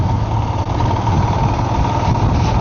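A motorcycle engine running steadily while riding off-road along a salt-crusted road, a loud continuous drone with a constant hum and little change in pitch.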